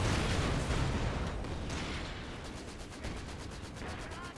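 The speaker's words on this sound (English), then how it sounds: "Repairing while under machine gun fire is, I think, pretty optimistic there by Pistole" Rapid machine gun fire in a Company of Heroes 2 battle, a steady rattling stream of shots mixed with heavier battle noise, loud at first and easing slightly.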